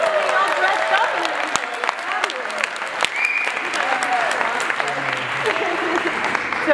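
An enthusiastic theater audience applauds steadily at close range, a dense wash of clapping that carries on throughout with a few cheers and voices mixed in.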